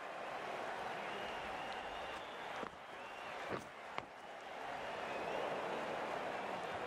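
Sustained applause and cheers from spectators at a club cricket match, Austin Aliens versus Dallas Classic, a steady roar of clapping broken by a few sharp claps or knocks near the middle, with no speech.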